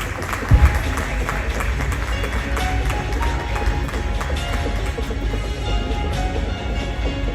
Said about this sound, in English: With a big round of applause, let's welcome him